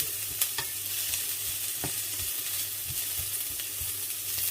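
Smoked meat fries in a little olive oil in a pan, giving a continuous close sizzle with occasional scraping and clicking stir strokes and no talk.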